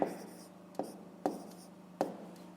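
A pen scratches out figures on paper during a fifth-grade math exercise, with four distinct taps or strokes spaced irregularly over a quiet hiss, close and faint.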